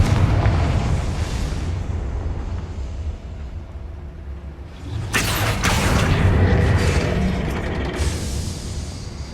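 A Confringo fire spell explodes in Hogwarts Legacy: a rumbling, roaring backdrop, then a sharp loud blast partway through with crackling debris trailing into a long booming tail.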